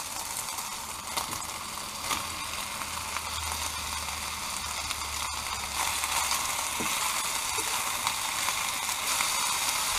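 Vegetables sizzle steadily in a pan on an RV kitchen stove, a continuous close frying hiss with faint scraping and clinks.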